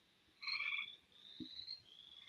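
Frogs croak from a swamp just outside an open window, a few overlapping rasping calls in a short burst and then a steadier trilling chorus, moderately faint and heard with no talking.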